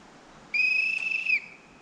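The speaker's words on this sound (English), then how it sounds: "The whistle signals the start of the drive." One clear, steady whistle blast held for just under a second, signalling the start of a drive on a game shoot, shrill and fairly close, against quiet outdoor background.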